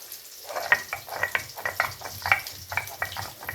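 Pieces of katla fish fry in oil in a pan, giving a close, crackling sizzle with rhythmic spatters and scraping as the pieces are moved, steady and moderately loud, with no talk.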